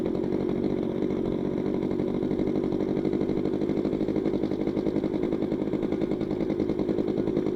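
A Yamaha motorcycle engine idles close by with a steady, fast, throbbing putter that holds even and loud without pause.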